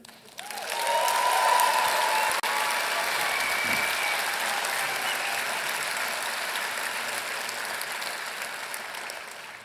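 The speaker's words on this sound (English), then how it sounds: "while the applause sounds so beautiful" Sustained audience applause fills a large hall at a live political reform summit, swelling quickly at the start and holding steady and dense throughout, with a few whistles rising above the clapping.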